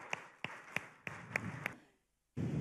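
A few slow, sharp claps ring out one by one in an event hall, spaced evenly and fairly faint, then cut to silence before a brief burst of noise returns.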